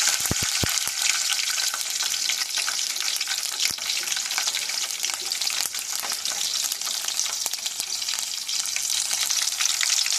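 Cinnamon, cardamom and chillies fry in hot oil for a homemade chicken gravy curry, a loud, close, continuous sizzle with scattered sharp pops and crackles throughout and no talk.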